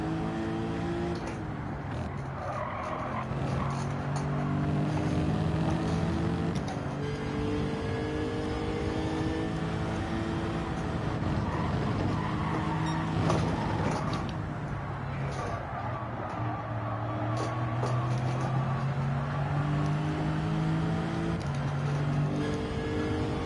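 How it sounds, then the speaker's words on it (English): Lexus RC F Group 4 touring car in Gran Turismo 7 revs and shifts through gears during practice laps, its engine pitch rising and falling repeatedly at moderate volume beneath intermittent commentary. "it's a Group 4 car, the Lexus RCF. Lovely car to drive. It sounds nice though."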